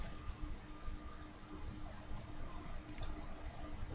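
A few crisp mouse clicks, three quick taps close together near the end, sit over a steady low room hum while a website's favicon settings are updated.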